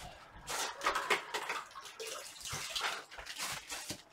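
Water splashes and trickles faintly during a farmhouse-style ombre painting project, with soft intermittent sloshing and dabbing sounds close by, no talking.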